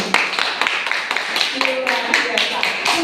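A classroom group claps for a student after a practice exercise in a lesson. Short sharp claps repeat at an uneven pace with talking mixed in, moderately loud and close.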